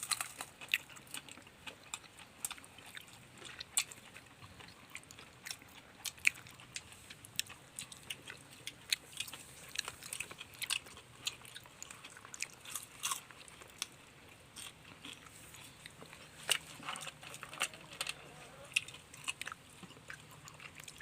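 Crispy fried sun-dried beef is chewed close up, with irregular sharp crunches and bites spread through a quiet background.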